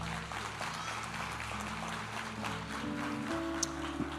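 A church congregation applauding, a soft, even wash of clapping that carries on steadily under faint sustained musical tones.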